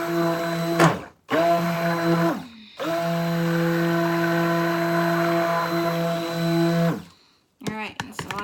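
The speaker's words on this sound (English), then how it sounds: "I'll start with mixing this" Stick blender whirring through soap batter for a winter-scene soap, a steady motorized hum in several long bursts separated by brief pauses, close and fairly loud, with no talking.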